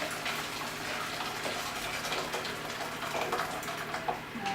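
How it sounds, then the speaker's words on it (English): Already boiling water pours steadily into a steamer pot, a continuous close splashing gush that lasts the whole time with no talking. "I'm just going to pour some already boiling water in."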